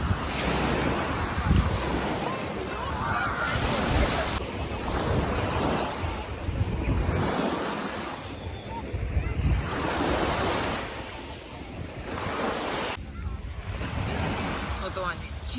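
Sea surf washing onto the shore in repeated surges, with wind buffeting the microphone and faint voices underneath.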